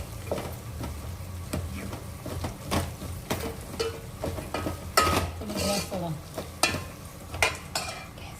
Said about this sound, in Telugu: పుదీనా, పచ్చిమిరపకాయ రెండు వేసి బాగా ఫ్రై చేసుకోవాలి